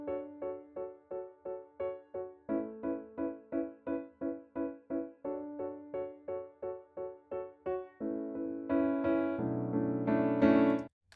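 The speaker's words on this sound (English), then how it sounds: "Okay, so I've just recorded in this piano part here," Piano plays steady repeated chords in an even rhythm, then swells into a fuller, louder sustained passage near the end. No voices.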